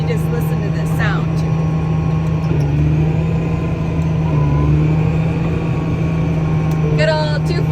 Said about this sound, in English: you want to hear the tractor work